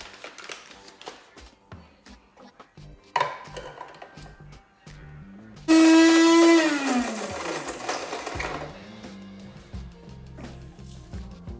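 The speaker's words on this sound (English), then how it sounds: "So open your packet of coffee into your grinder, and you want a nice fine grind" An electric coffee grinder grinds coffee beans to a fine espresso grind, giving a loud, close whirring burst of a few seconds among quieter kitchen clatter and tapping.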